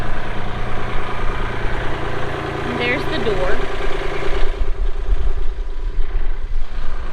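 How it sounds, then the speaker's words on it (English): Close to a farm tractor engine idling at a steady low rumble outdoors, while a person speaks briefly over it. "I don't know if you can hear me over the tractor."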